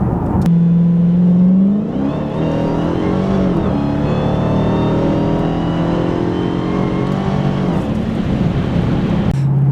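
A Hellcat car engine makes a loud, close pull, rising in pitch under acceleration, dipping at a shift, then climbing steadily again as the revs build.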